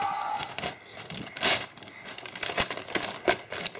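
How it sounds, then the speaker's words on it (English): Gift wrapping paper on Christmas morning is torn and crinkled in short bursts of close, rustling rips at an irregular pace, with a faint voice at times. "tear this paper."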